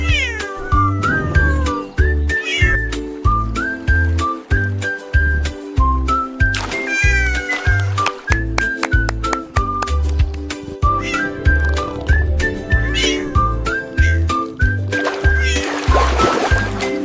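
Repeated cartoonish cat meows ring out over a bouncy children's song with a steady beat, loud and close, one meow after another all the way through.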